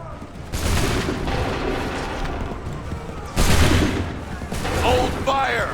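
Two bursts of massed musket volley fire in Assassin's Creed III, the first sustained and the second sharper and louder, over ongoing battlefield noise with shouted voices near the end.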